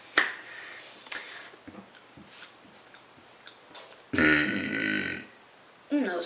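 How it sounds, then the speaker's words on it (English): A woman makes closed-mouth burps: small muffled clicks and grunts at first, then one long, loud, rumbling belch held for about a second, followed by another short one at the end. "that was me burping with my mouth closed"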